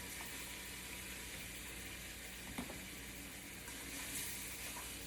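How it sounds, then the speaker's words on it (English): Tofu sizzles steadily in a pan, a soft continuous crackle with a brief stir or clink partway through, no voices. "and you hear the sizzle."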